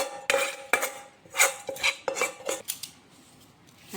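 Homemade khajur pak, a Gujarati date sweet, being scraped and spooned into a dish, with a series of sharp metallic clinks and taps from a utensil against the plate, spaced irregularly and fading toward the end.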